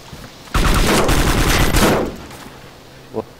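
Loud burst of rapid automatic gunfire in the video game DayZ, a dense volley lasting about a second and a half, then fading, with a brief faint sound afterward.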